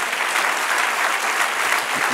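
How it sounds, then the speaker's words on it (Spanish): A church congregation applauds at a Spanish-language service, giving a dense, steady burst of clapping from many hands that fills the whole short moment, close and fairly loud. "Dale un aplauso al Señor"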